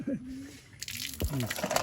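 Water gushes steadily from an outdoor tap at a rural home near maize and cucumber plants, a broad hiss that begins partway through and continues under nearby voices.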